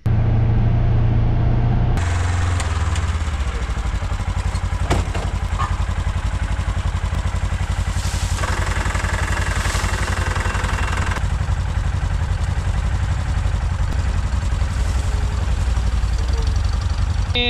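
A Ranger utility vehicle loaded with mulch idles steadily up close on a farm, a continuous low rumble with faint clatter throughout.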